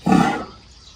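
A bull elephant lets out a single loud, deep roar up close, sharp at the start and then fading quickly.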